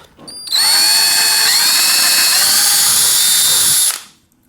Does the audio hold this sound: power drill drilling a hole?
yes